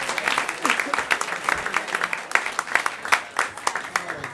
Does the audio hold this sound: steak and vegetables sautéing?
no